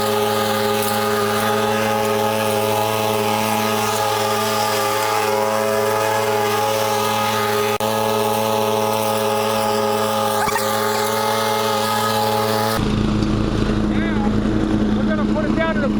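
A Murray riding lawn mower's engine runs at a steady drone with a constant hum throughout, then the tone shifts abruptly near the end as the throttle or gear changes.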